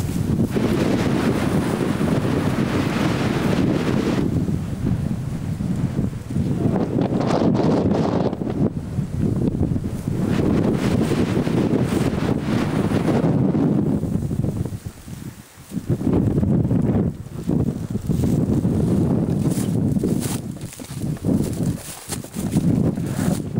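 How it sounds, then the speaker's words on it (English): Wind blowing hard across the microphone on a hike along the Huanghuacheng section of the Great Wall near Beijing; loud, gusty rumbling buffets rise and fall throughout, briefly easing twice, with no clear talking. "Oh, back in the wind again."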